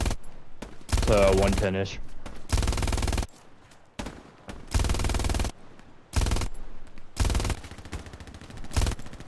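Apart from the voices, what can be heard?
machine gun fire in the video game Hell Let Loose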